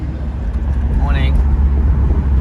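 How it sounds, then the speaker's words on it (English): A car driving through the northern suburbs of Chicago, with a steady, loud engine and road rumble throughout and a brief rising whine near the middle. "We're driving through Chicago"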